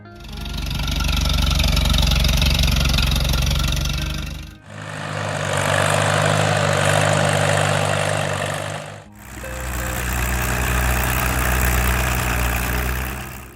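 A heavy, low Allis-Chalmers vintage farm tractor engine runs steadily in three continuous stretches, rumbling and idling loudly up close with a rough mechanical drone.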